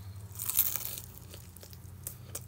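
A single crunchy bite into a piece of fried lobster, with a short crisp crackle near the start and a couple of fainter crunches afterward, close and fairly quiet, with no talking.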